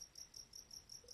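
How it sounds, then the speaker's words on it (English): Crickets chirp at night in a steady, high, pulsing rhythm of repeated bursts, faint and distant with no voices. "Pero estas cosas que están haciendo este ruido, esta música de la noche. Crickets in English."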